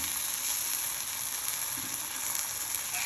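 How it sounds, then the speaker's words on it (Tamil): Vanjaram fish frying on a hot tawa, a steady dense sizzle with crackling bursts held at an even level throughout, close and loud with no voices. "நம்ம தவாவில் போட்டு வறுத்து எடுக்கும்போது டேஸ்ட்டு ரொம்ப நல்லாயிருக்கும்."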